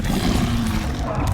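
The Incendio fire spell is cast in a Harry Potter video game, a short, dense roaring burst of flame that fills the whole moment without a break.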